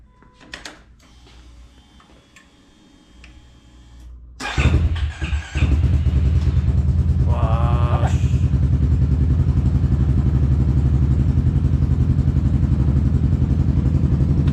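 A motorcycle engine is started after some quiet clatter and handling noises. It catches abruptly and then idles loudly and steadily with a rapid, even thrum.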